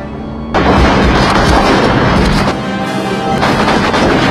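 Shootout gunfire from the film RoboCop: after a brief quiet start, dense, loud bursts of shots crackle and boom nearly continuously, close and heavy, with no voices.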